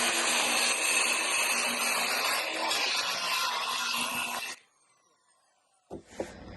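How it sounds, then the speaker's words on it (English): A skill saw cuts a large curve in wood for a Sailmaster 22 sailboat interior rebuild, a loud continuous whining buzz for several seconds before it cuts out, followed by a short spin-down rattle. "a lot of times you can actually cut it fair with a skill saw than you can with a bandsaw"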